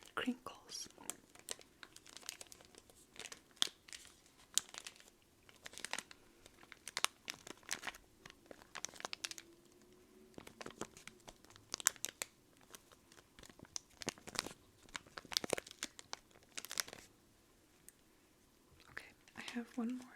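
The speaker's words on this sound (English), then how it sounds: "Just some like wrapping paper crinkles." Wrapping paper crinkles close up in bursts of crisp rustling and crackling with short pauses between, while a soft voice occasionally whispers underneath.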